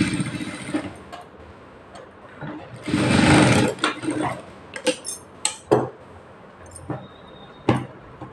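Sewing machine stitching the back of a high-neck blouse with piping, a steady whirring run that speeds into a louder burst and then breaks into short stop-start bursts and clicks, heard close up.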